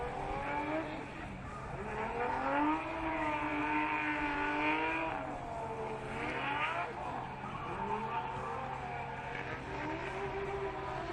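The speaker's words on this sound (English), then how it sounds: "Now it's his turn to warm up his tires." A Subaru BRZ drift car in a Formula Drift PRO2 competition revs hard and squeals its tires while warming them up, a steady loud engine drone with rising and falling pitch sweeps and sustained tire screech.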